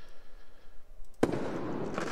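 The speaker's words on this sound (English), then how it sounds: "It was just a pop and crackle, and that's it." A firework sound effect for an Unreal Engine 4 game: a near-silent lead-in, then a sharp pop followed by a dense, fizzing crackle that lingers to the end.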